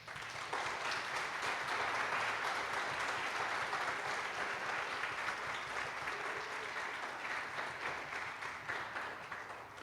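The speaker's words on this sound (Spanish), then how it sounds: "para quien pido un fuerte y caluroso aplauso" An audience at the Cátedra Latinoamericana "Julio Cortázar" lecture applauds writer Santiago Gamboa with sustained, even clapping from many hands that fills the hall and tapers slightly toward the end.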